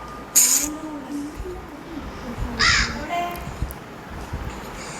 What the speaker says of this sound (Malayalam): കാക്കതാ